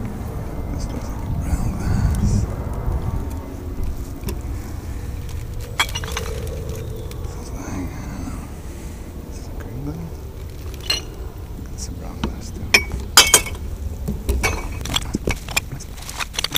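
Glass bottles in white, green and brown glass clink and knock as they drop into a street glass recycling container in Germany, a few scattered rattles and one sharper burst near the end, under steady outdoor background noise.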